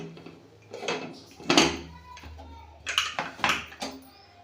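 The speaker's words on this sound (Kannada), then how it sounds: "ಇವಾಗ ಇದನ್ನು ವಿಸಿಲ್ ಹಾಕ್ತೇನೆ ನೋಡಿ. ಕುಕ್ಕರ್ ಡಕ್ಕನ್ ಕ್ಲೋಸ್ ಮಾಡಿಬಿಡ್ತೀನಿ." Metal clanks and clatters as a whistle is set on a pressure cooker and its lid is shut while cooking a North Karnataka Sankranti bhogi vegetable dish, a few sharp knocks and scrapes close by with brief pauses.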